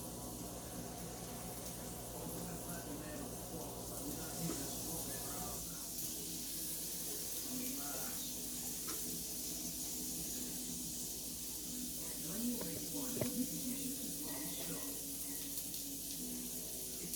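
Small pieces of bacon cooking in a pan on low heat, a steady close sizzle and hiss throughout with faint crackles, with a voice speaking softly at times.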